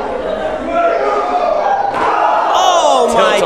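A wrestling crowd at an indie pro-wrestling show cheers loudly, with rising shouts and whoops, a few thuds from the ring, and voices talking over the noise.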